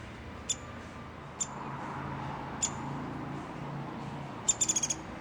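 A small bird visiting a race boat gives a few sharp, high chirps spaced apart, then a quick burst of rapid calls, all fairly faint over a steady low background rumble.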